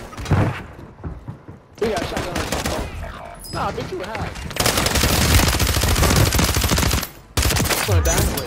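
Rapid automatic gunfire in a shooter video game, loud bursts filling most of the stretch with brief gaps, under a shouting player voice.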